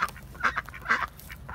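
Ducks quacking at a backyard duck pond in a Central Florida food forest, several nasal calls in quick bursts at close range, loud and repeated with brief gaps between them, no talk.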